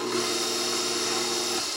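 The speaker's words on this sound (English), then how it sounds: "So we're gonna mix it up now." A stand mixer churns raspberry bun dough with a steady motor hum and rubbing drone, held evenly for under two seconds.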